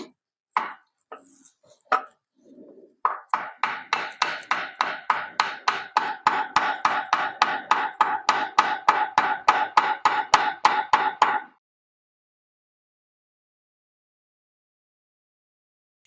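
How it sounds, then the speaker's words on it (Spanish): A hammer taps a car part on a Peugeot 208 in a fast, even series of sharp, close knocks after a few scattered hits, then stops into silence. "Podéis ayudaros de un martillo para ir golpeando."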